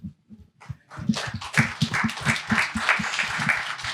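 Audience applause at a post-production industry talk, a crowd clapping steadily at moderate volume after a brief scattered start, with some low thumping beneath.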